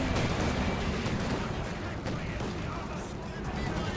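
Gunfire rattles through a Company of Heroes 2 battle as partisan tank hunters and a T-34 trade shots, a dense, continuous wash of distant small-arms fire and rumbling combat.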